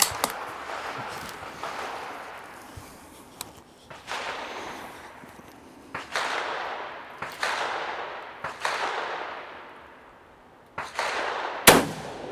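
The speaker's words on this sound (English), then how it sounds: "So we'll fire three rounds with this and see how this does." A rifle with a two-stage military trigger fires repeated sharp gunshots outdoors, each loud crack followed by a decaying echo, spaced a second or two apart.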